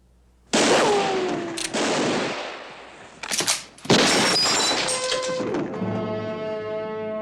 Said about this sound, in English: And as for you, Cartwright, you just got in the way of a wild bullet.